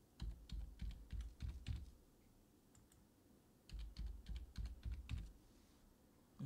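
Fingers typing a new password on a computer keyboard, two quick runs of soft, close keystroke clicks separated by a short pause, alone without talk.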